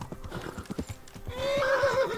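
Horse hooves clip-clop at a steady trot in Kingdom Come: Deliverance, several close hoofbeats with a whinny rising near the end, no talking.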